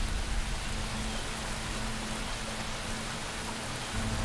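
Steady, heavy rain hisses evenly across the whole stretch, a dense wash of drops with no voices.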